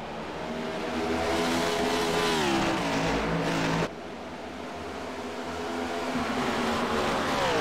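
Race cars roar past at full throttle in an HTL Cup Series dirt-track event, engines revving with rising and falling pitch, loud and continuous with a sudden cut partway through.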